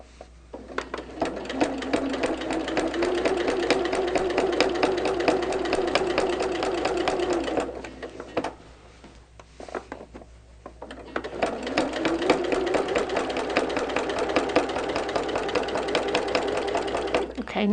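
Sewing machine stitching layers of yellow and white quilting fabric in steady, loud runs of rapid needle strokes, pausing briefly in the middle before starting up again.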